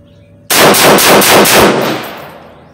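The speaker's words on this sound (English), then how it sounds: "we're gonna try a 5-shot rapid fire and see how she functions." An IWI Tavor SAR bullpup rifle fires a five-shot rapid string, loud close reports in quick succession with a ringing tail fading afterward.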